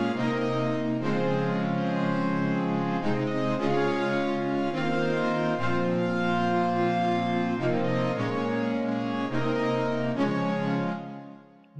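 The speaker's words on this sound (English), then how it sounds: "we will design a victory brass sound in the Vital synth" Warm victory brass patch built in the Vital software synth, playing a sequence of sustained, harmonically rich chords that change every second or so, loud and continuous, fading out at the end.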